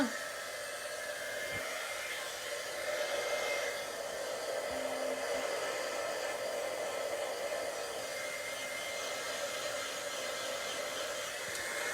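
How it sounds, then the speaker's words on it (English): An embossing heat tool warms up with a steady, even blowing hiss, like a hair dryer, running without a break at moderate loudness. "So I'm just going to warm my heat tool up."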